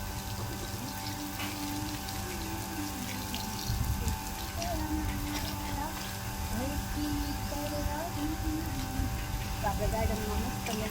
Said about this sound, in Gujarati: પાઈ રહ્યા છે ઝાડવામાં પાણી